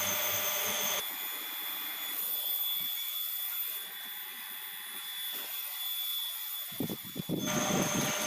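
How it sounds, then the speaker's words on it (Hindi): An electric water pump motor on an automatic cut-off switch runs with a steady mechanical drone, starting abruptly and continuing at an even level before faint clatter near the end. "जहाँ हमारी मोटर स्टार्ट हो चुकी है।"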